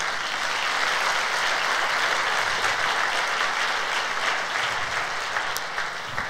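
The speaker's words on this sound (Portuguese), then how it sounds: "Vamos dar um aplauso ao Senhor?" A congregation applauds during a Sunday church service, a steady broadband wash of many hands clapping that holds evenly throughout with no break.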